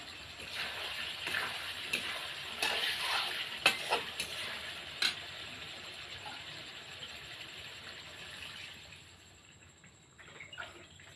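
Fish frying in a cooked spice paste in a pan, a moderate crackling sizzle with several stirring knocks early on, fading quieter toward the end.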